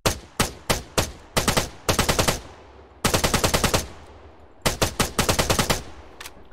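An M4A5 rifle fires in ArmA 3, in loud, sharp bursts of automatic fire, several short and longer strings of rapid shots separated by brief pauses, ending with a single isolated shot.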